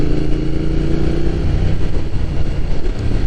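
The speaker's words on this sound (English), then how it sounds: "I'm very lucky to be able to ride the Thruxton, the beautiful Thruxton FE, here and there." Triumph Thruxton Final Edition motorcycle engine running steadily while riding, a loud close low rumble with continuous road and wind noise and no talking.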